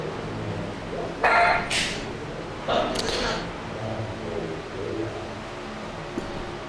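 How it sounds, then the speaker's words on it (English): Dogs bark in the background during a Ghost Cup Series Daytona qualifying stream, two short bursts close together early on and then quieter, over a low steady room hum. "Sorry about the dogs in the background"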